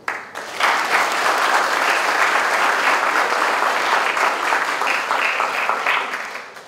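A university audience breaks into loud, dense applause that swells quickly after a brief pause and keeps going steadily before starting to taper at the end.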